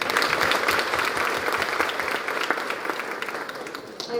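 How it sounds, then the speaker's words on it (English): An audience applauds a performance by young children at a cultural event, a dense, steady wash of clapping that holds loud for about four seconds and fades slightly near the end. "Let's clap for them."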